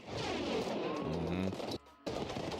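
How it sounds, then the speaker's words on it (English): Practical-effect explosions and gunfire from the battle scenes of the war film Saving Private Ryan play as a dense, loud barrage of blasts and crashes, with a sudden brief drop toward the end before the noise returns. "actual explosions during filming"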